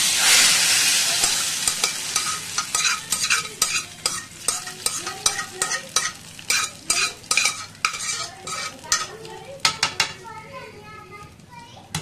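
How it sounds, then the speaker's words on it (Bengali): Cumin seeds sizzle in hot oil in a kadai as a tempering for khichuri: a loud hiss at first that fades, then rhythmic clinks and scrapes of a spoon stirring, with children's voices nearby. "একটু শুধু জিরে ফোড়নের ছোকটা দেবো, ব্যাস আমার খিচুড়ি রেডি হয়ে যাবে।"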